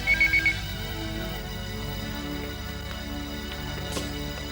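A telephone rings with a quick trilling burst at the start, then goes quiet under faint room noise and a few soft clicks.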